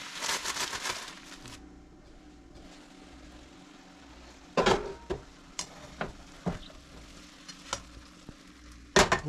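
Sliced garden carrots frying in a pan, a steady low sizzle with intermittent sharp scraping and stirring clicks, close and moderately loud, no talking.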